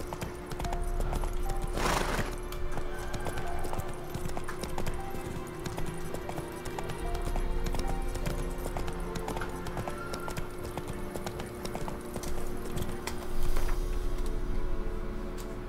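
Roach, the horse in The Witcher 3: Wild Hunt, gallops with a steady, continuous clip-clop of hooves running through the whole stretch, fairly close and even in loudness.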